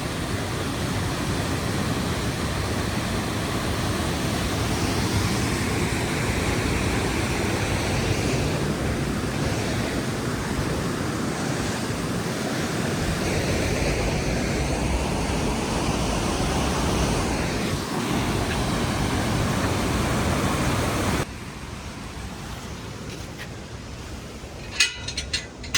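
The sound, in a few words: Aira Force waterfall, Lake District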